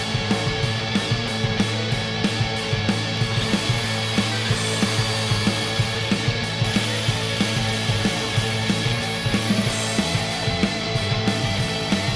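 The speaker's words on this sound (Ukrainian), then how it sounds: "вражає її висока продуктивність різання міні-пили штіль ЖТА-30" A STIHL GTA 30 cordless mini chainsaw cuts through wood, giving a steady, close, continuous buzzing whine with a repeating gritty rhythm across the whole stretch.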